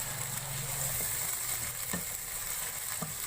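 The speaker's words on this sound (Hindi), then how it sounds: "कलर चेंज होने तक हम करेंगे फ्राई।" Half a kilogram of mutton keema fries in a pan with a steady, close sizzle, broken by a few soft knocks from a stirring utensil.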